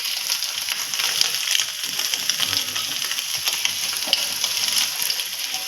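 Masala for an egg paneer curry fries in oil with a continuous close crackling sizzle, with scattered pops and spatters over the steady hiss.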